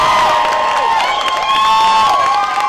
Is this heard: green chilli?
no